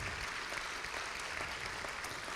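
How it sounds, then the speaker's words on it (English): An audience at a celebration event claps together in a dense, continuous wash of applause that holds steady at full strength throughout, with no voices over it. "please clap for that"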